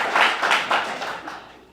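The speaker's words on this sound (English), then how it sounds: "so the applause is fine after opening statements" Small audience at a town candidates forum for a vacant selectboard seat claps after an opening statement, a short scattering of applause in a few pulses that quickly fades away.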